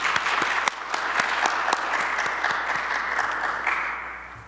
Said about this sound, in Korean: 우리 격려의 박수 한번 쳐드릴까요?